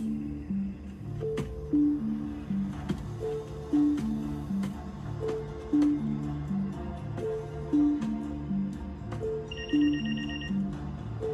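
A telephone rings in a repeating melodic tone pattern, fairly loud and steady, with a brief higher electronic beep layered in near the end and no speech over it.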